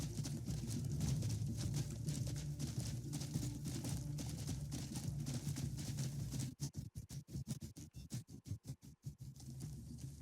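Hooves clatter in a steady galloping rhythm, then break into sharper, spaced clip-clops near the end, with wind-like noise throughout, from a horse in the video game Crimson Desert.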